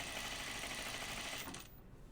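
Sewing machine stitching a garment from the inside, a fast steady whirr close by that winds down and stops near the end.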